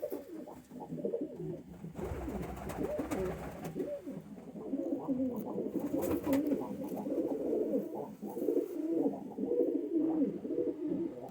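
A pigeon coos repeatedly in soft, throaty warbles, close and steady, with faint background noise and a few brief rustles.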